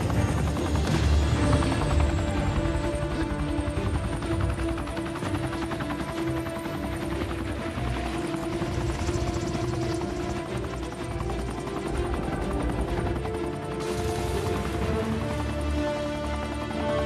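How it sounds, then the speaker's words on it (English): Airbus AS-350 helicopter lifting off in a Marvel film scene, a steady loud rotor and engine drone filling the whole stretch, with brief thumping hoof-like beats mixed into the dense action soundtrack. "lifting off with a helicopter and Cap rushing in to stop it in time."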